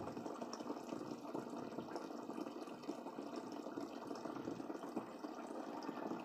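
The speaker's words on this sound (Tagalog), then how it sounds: "Magdagdag muna ako ng tubig." Water is poured into a homemade water filter with a running pump, making a steady, soft, continuous splashing trickle that stays quiet and even throughout.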